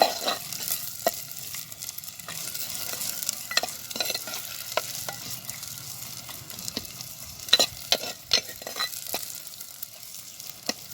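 Chopped onions sizzle in hot oil in a clay pot for mutton biryani. A steady soft frying hiss runs under repeated sharp scrapes and clinks of a spoon stirring.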